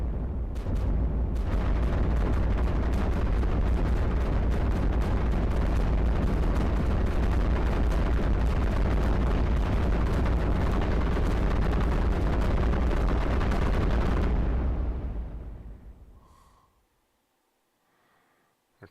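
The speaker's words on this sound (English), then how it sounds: "so now we've got 3 cannon turrets at max level" Cannon turrets in the iBomber Defense strategy game fire a dense, continuous barrage of heavy booms and blasts at tanks, loud for about fifteen seconds before fading into near silence.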